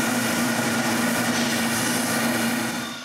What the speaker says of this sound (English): When I have the shape that I want, it's time for the final sanding.